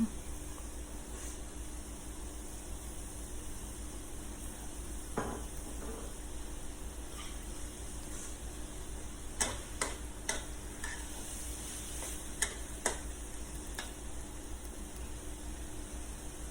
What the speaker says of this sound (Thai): ผัดคลุกเข้าให้เข้ากัน ปรุงรสด้วยซอสหอย